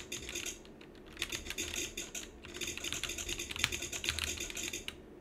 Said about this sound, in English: A click.